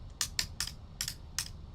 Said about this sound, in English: Probably hear me clicking buttons in the background. I have these switches I'm just fidgeting with,